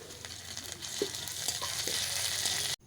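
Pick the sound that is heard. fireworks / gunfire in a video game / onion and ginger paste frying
onion and ginger paste frying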